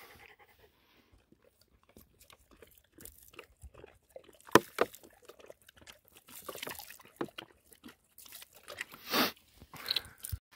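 A dog laps and gulps water straight from a plastic bottle with no bowl, giving irregular wet slurps, splashes and panting bursts at close range.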